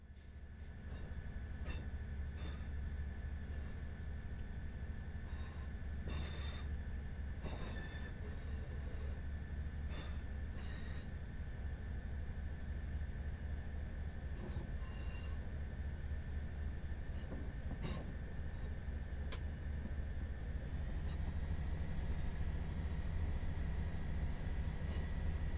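A ScotRail Class 158 diesel train moving slowly in the Train Sim World game, with a steady low engine drone and rumble. Scattered wheel clicks and rattles come through on the track, and no one speaks.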